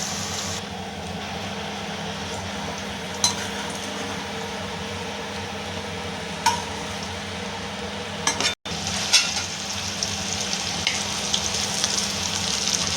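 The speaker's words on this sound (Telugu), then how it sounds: "మనకు తగినంత నూనె వేసుకొని ఈ ఆకు అనేది వేపుకోవాలి" Gongura leaves frying in oil for Andhra gongura pachadi, a steady crackling sizzle that runs throughout with a few sharp clinks and one brief dropout, no talk.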